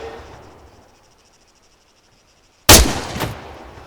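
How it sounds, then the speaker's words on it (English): An ArmA 3 soldier fires a rifle downrange on a training range. After quiet night-time crickets comes one loud, sharp gunshot with a quick echoing tail, then a second fainter crack. "When you're ready, put some rounds downrange."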